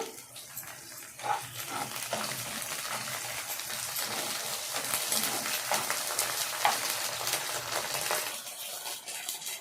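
Ginger garlic paste is frying in a pan for mutton curry, heard as a continuous soft sizzle with a watery hiss and occasional stirring scrapes, close and moderately quiet.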